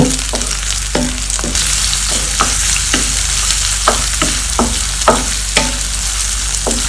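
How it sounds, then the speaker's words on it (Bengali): Onions with garlic fry loudly in a pan under constant stirring, a continuous sizzle punctuated by regular scraping knocks of the spatula against the pan. "পেঁয়াজের রংটা একটু ধরে না আসা পর্যন্ত আমরা ক্রমাগত নেড়ে যাব"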